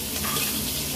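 Chopped onion frying in oil with nigella seeds, a steady, dense sizzle that stays fairly quiet and continuous throughout.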